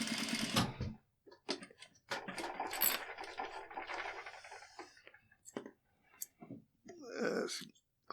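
A sewing machine stitches a garment placket, running in short bursts of fast mechanical whirring with brief pauses between, close and fairly quiet.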